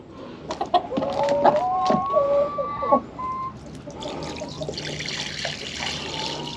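Hens on their nests cluck and squawk nearby in short bursts, followed by a softer rushing of fresh water being poured in the background.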